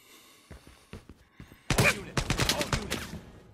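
Gunfire in the mobile shooter game Lost Light, a few scattered sharp shots followed by a dense burst of rapid, loud cracking rounds, close and punchy, no talking.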